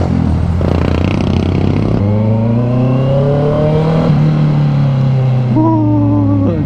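A Honda CB650R inline-four motorcycle with a new exhaust revs loudly and close, its engine note rising and falling through several sustained pulls, with a brief shift near the end.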